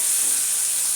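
Onions and dried red chillies sautéing in a pan for a karuka pilla chutney, a steady close sizzle and hiss with no other sounds over it.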